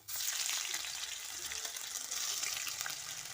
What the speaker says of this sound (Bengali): এবার আমি একে একে মশলাগুলো দিয়ে দিচ্ছি